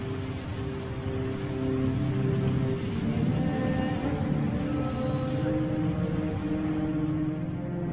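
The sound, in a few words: heavy continuous rain at start of rainy season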